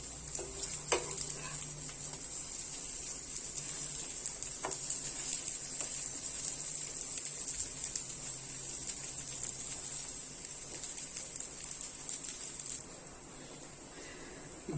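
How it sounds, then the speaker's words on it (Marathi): Spicy cutlets sizzle steadily in hot oil, a close, continuous frying crackle with occasional soft clinks, easing slightly near the end. "सोनेरी रंगावर तळून घ्यायचे छानपैकी"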